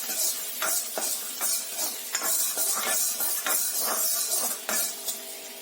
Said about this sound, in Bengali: হালকা ব্রাউন করে ভেজে নেব